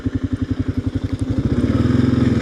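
Kawasaki KLR motorcycle engine while riding, a loud, close thumping single-cylinder pulse that quickens and smooths as it accelerates.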